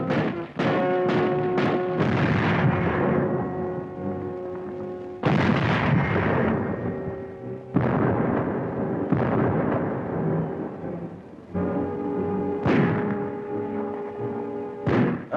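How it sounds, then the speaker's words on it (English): Artillery and naval gunfire bombard Gdynia harbor in 1939, a series of heavy booming blasts with rumbling decays, several in quick succession and then spaced detonations, loud and continuous without speech. "The Nazis direct their fire across the harbor."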